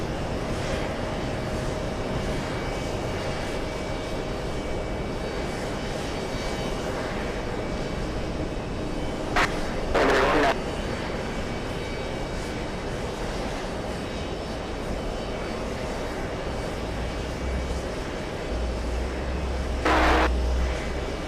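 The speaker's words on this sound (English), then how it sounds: "let's go for the 747 on final." A Boeing 747 airliner on final approach at JFK airport, a steady distant jet engine rumble and whine that holds evenly throughout, with a couple of brief louder bursts of nearby noise.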